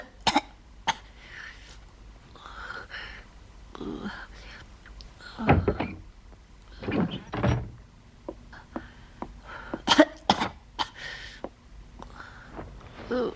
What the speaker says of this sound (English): that's a nasty cough